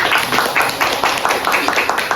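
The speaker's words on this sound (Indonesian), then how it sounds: "Coba kita beri tepuk tangan untuk kita semua." Children in a classroom clap together in a short burst of applause, quick rhythmic hand claps heard nearby for about two seconds.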